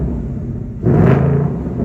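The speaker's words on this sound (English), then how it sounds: "Remote rev on the new 24 Mustang." A 2024 Ford Mustang engine fires up via remote rev, a sudden close, loud rev that swells into a deep rumble after a quieter idle, with no voices.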